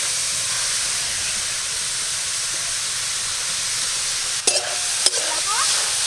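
Grated carrot is stirred in a dry wok with no oil or ghee, while making carrot halwa. A constant, fairly loud hiss runs throughout, broken by two brief scraping knocks of a utensil near the end.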